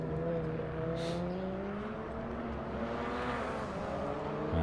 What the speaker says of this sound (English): That's Alex Moss going down the front straight in that beautiful green S2000